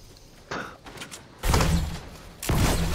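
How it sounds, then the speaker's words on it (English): Distant gunfire in a video game, bursts of shooting heard as a few broad noisy thumps and rumbles in a steady background, with no speech in between. "Yeah. I hear shooting."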